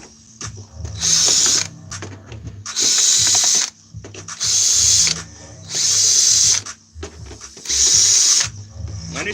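A power drill drives screws with a bit during a scrap night session, whirring in five loud bursts of about one second each, separated by short pauses with quiet clatter between them.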